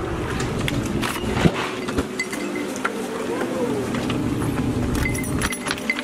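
Keys jangle and clink close by while a door is locked near a staircase, a few sharp metallic chinks standing out over steady background noise.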